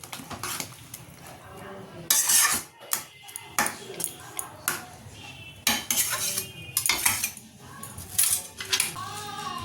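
A spoon scrapes and clinks against a metal pot while chutney is stirred, giving repeated close, sharp metallic knocks and scraping bursts with short pauses between them.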